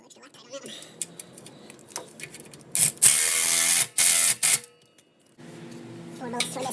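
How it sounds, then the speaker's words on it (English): A ratchet tightens nuts on the sway bar brackets of a Nissan Z31 during a clutch job, with a few quick clicking bursts between stretches of someone talking nearby. "Just gotta put these nuts on the sway bar brackets."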